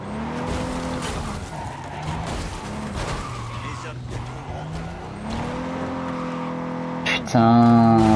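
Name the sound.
car stuck, tires skidding in Cyberpunk 2077 video game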